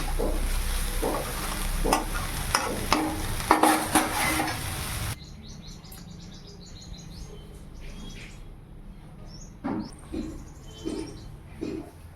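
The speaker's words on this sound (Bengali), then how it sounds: "শাক ভাজাটাও হয়ে গেছে, নামিয়ে নেবো" Leafy greens fry and sizzle in a pan with scraping stirring strokes, loud and close for about five seconds. After that, quieter kitchen sounds and faint bird chirps follow.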